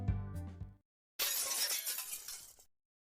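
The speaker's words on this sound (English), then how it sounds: "the sound of something breaking like glass was heard from the entrance" A short tonal chime fades out, then after a brief silence glass shatters loudly and crisply, its shards tinkling for over a second before cutting off, a sound effect in the game Netaboku.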